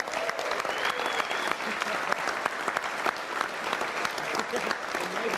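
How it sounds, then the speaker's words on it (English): Vigorous audience applause at a lively sports-themed show, a full, even roar of clapping hands that holds steady throughout, with faint crowd noise blended in. "let's give a big round of applause"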